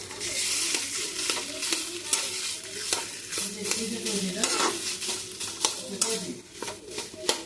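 Mashed potato filling for singara stirred and frying in a pan, with a steady sizzle and repeated scraping strokes of a spoon against the pan, close and clear, no talk.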